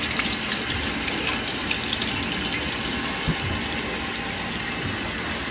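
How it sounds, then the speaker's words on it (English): Cold tap water runs steadily into a sink while raw chicken is washed, a continuous close hiss and splash with no speech. "Cold water. Just wash the chicken out."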